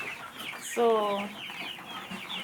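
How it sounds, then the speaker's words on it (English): Local chickens on a farm give a quick burst of loud, close clucking near the middle. Quieter background bird noise fills the rest, and one brief spoken word is heard. "So this is our local chicken."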